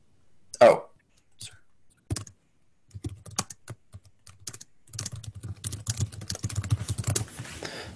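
Quick clicks of typing on a computer keyboard during an online community meeting, sparse at first then a faster, denser run of keystrokes, close and fairly quiet.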